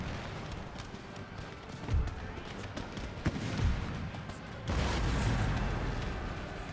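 Cannon fire in a Total War strategy battle, a dull rumble with several low thumps and a heavier, sustained boom near the end over a dense, noisy battlefield background.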